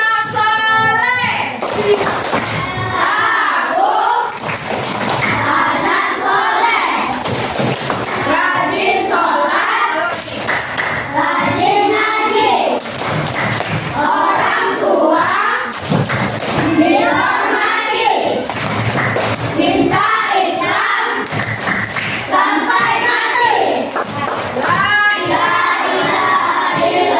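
Children in a classroom perform the rhythmic 'tepuk anak soleh' clapping chant, with bursts of sharp group claps in a repeating pattern alongside chanted voices, loud and close throughout.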